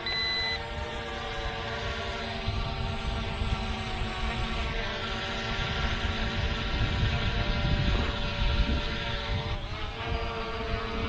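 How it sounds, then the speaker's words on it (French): An SG906 Max drone turning and flying off toward its first waypoint, a steady high-pitched buzzing motor whine that holds on continuously and swells slightly, with faint beeps at the start. "Le drone se tourne et il va partir à son premier point."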